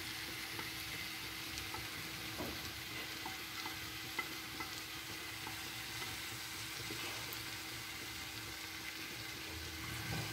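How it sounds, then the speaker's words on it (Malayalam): Tomatoes frying in a pan for chicken biryani, a steady close sizzle with scattered scraping stir clicks running throughout, no voices. "ഒന്ന് നന്നായി മിക്സ് ചെയ്ത് കൊടുക്കാം. ഇനി തക്കാളി ഇട്ട് കൊടുക്കാം."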